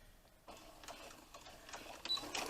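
A sewing machine stitches a fabric messenger bag with a 3/8-inch seam, a short run of quiet, rapid mechanical whirring and needle chatter that grows a little louder toward the end, with no voices.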